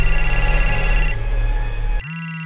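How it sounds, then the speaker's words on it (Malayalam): A telephone rings loudly in a film scene, its electronic tone repeating in steady pulses that stop briefly and then resume, close and dominant, with no one speaking. "എടുക്കടാ ഫോൺ,"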